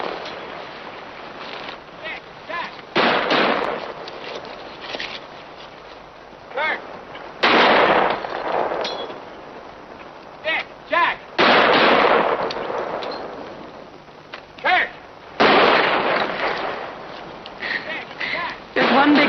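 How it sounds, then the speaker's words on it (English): Gunshots ring out during target practice in a 1950 Western setting, with several sharp loud reports spaced apart among bursts of background noise. "Target practice. I have the boys work an hour a day. Doesn't pay to let your gun hand stiffen up."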